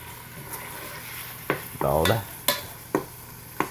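Ground hamburger meat cooking in a Ninja Foodi: a soft steady sizzle broken by several sharp scraping stirs of a utensil against the pot, close up and without talk.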